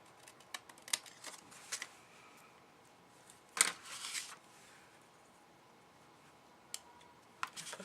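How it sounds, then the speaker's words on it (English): Brown paper cut with scissors for a handmade baby card: faint close snips and paper rustles, one louder crisp cut in the middle, scattered small clicks, no talking. "And I'll cut this other brown piece off."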